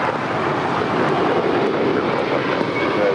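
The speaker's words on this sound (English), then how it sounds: "That was Mike, India, November, Tango departing to New York, flight 624 with JetBlue Airways." A JetBlue Airways jet bound for New York rolls for takeoff on runway 25 right at LAX, its engines making a loud, steady broadband roar with some wind buffeting and no voices.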